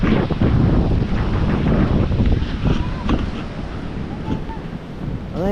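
Strong typhoon wind roars and buffets the microphone outdoors, a loud continuous rush with heavy low rumble and surf-like surges, steady throughout.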